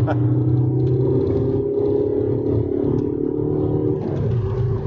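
An Alfa Romeo GT with a remapped engine and 155,000 km on it hums from inside the cabin, a smooth, steady low drone with a slight clatter, while people talk over it.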